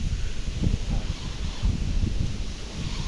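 Strong wind gusts through reeds on a riverbank while spinning for fish, a loud continuous rumbling buffet with rustling, close to the microphone.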